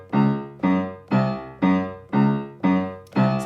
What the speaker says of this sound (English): We have bassoon, we have timpani,